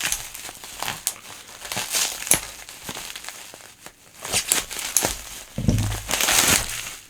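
Parcel packaging being cut open with scissors, a steady stream of close crinkling, crunching and tearing sounds with irregular sharp snips, loud and near, with no talking.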